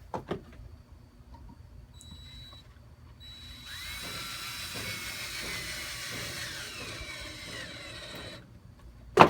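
A power driver sinks a screw into a snap-lock baluster base centered on top of a 2x4, a steady whirring motor run of several seconds after a few light taps.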